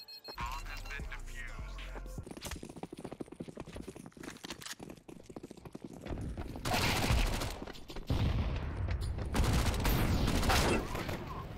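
Shotgun blasts from a Mag 7 in Counter-Strike 2, a few loud, close booming shots near the end of a busy competitive round, over game noise with brief voice chatter.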